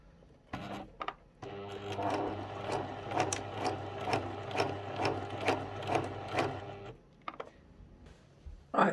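A sewing machine runs a close, wide zigzag over hat wire for millinery, a steady rhythmic mechanical chatter lasting several seconds with quieter handling sounds before and after.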